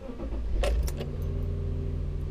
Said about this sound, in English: and then I'm going to start the car